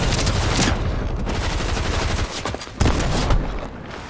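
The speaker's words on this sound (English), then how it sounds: "Why is there so many people shooting from such a long distance?" Rapid bursts of long-range gunfire from a shooter video game rattle almost continuously, loud and dense, with a short lull before the firing picks up again.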